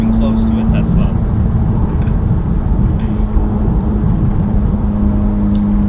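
A 500whp Mitsubishi Evo X pulls hard through second, third and fourth gear, a loud continuous engine drone with steady road and wind roar, heard from inside the car.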